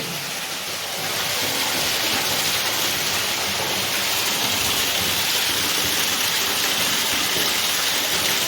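Water gushes steadily from a tap inside a flooded, abandoned palace. It is a constant hissing roar that swells in after a second and carries on unbroken and close.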